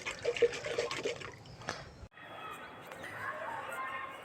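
Mustard cake liquid fertilizer is stirred in a container, with close wet sloshing and splashing at first, then a quieter watery swirl, while a voice talks in the background.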